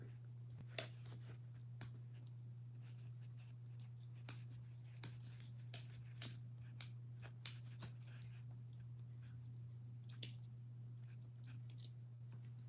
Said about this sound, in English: just going with scissors and cut